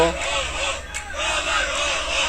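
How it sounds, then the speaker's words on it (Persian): Football fans cheer and chant together in the stadium during the Foolad Novin Ahvaz against Damash Gilan match. The crowd sound is a distant, continuous roar with brief voices over it. "صدای تشویق هواداران یه لحظه اومد"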